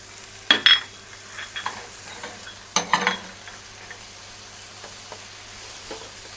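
Tomato paste sizzles in a pan over a raised flame, added to cherry tomatoes for an old-fashioned seafood ragu. A soft frying hiss runs beneath a few sharp clinks and scrapes of stirring near the start, with no talking.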